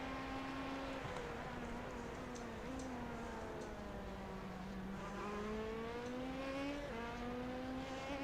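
Hybrid race cars in an iRacing endurance race at Hockenheim, engine whine rising and falling as several cars scream past one after another, steady and moderately loud with no talk.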